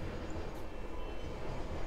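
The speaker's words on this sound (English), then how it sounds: "Now we got to deal with that train." A passing train rumbles steadily as a broad, even low roar, fairly distant and continuous, with no speech over it.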